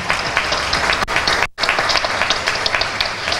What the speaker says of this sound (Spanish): yo pediría un fuerte aplauso para ella